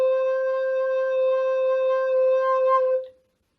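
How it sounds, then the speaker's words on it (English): The lowest C on a recorder is held as one steady, mellow note for about three seconds, then cut off, played alone in a quiet room. "we're going to go all the way down to the very lowest note on the recorder, and that's a C."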